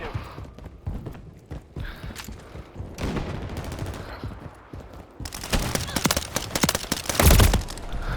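Call of Duty Modern Warfare 3 gunfire, including a suppressed weapon: scattered muffled shots early on, then heavier loud bursts of rapid fire near the end, with some game chatter.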